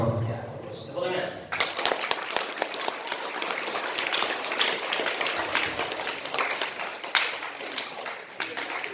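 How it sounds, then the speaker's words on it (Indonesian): An audience claps together during a religious study class reading the Matan Taqrib text, the applause breaking out abruptly and continuing as dense, fairly loud, steady clapping for several seconds before tapering slightly. "Ya, terus tepuk tangan."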